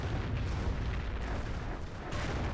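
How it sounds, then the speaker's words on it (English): A Calliope rocket barrage in Company of Heroes, heard as a continuous heavy rumble of overlapping blasts and booms, dense and unbroken for a few seconds. "Here comes a Calliope rocket barrage."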